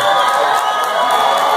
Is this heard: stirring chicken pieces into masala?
no